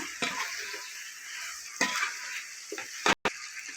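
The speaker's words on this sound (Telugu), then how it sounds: "ముక్కలకు పట్టి మంచిగా ఫ్రై అవ్వాలండి" Chicken pieces for pulao fry in a pot under a soft, steady sizzle, with a few sharp scrapes and clinks of a spoon against the metal and a brief break near the end.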